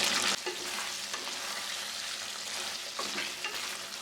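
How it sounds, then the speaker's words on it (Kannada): Chilli chicken cooks on a low flame in a pan, making a soft, continuous close sizzle with a few scraping stirs at intervals, and no talking. "ಈ ಥರ ತಿರುಗಿಸ್ಕೊಂತ ತಿರುಗಿಸ್ಕೊಂತ ಒಂದು ಹತ್ತು ನಿಮಿಷ ಅಥವಾ ಒಂದು ಕಾಲು ಗಂಟೆ ಲೋ ಫ್ಲೇಮಲ್ಲಿ ಬೇಯಿಸ್ಕೋಬೇಕು"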